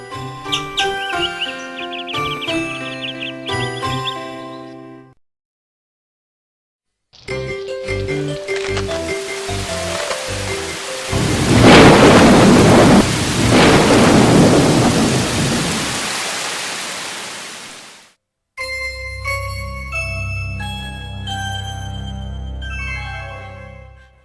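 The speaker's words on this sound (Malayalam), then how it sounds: "എന്തൊരു മഴയായിരുന്നു." Heavy rain pours down with deep rolling thunder in the middle stretch, framed by gentle melodic music before and after the storm.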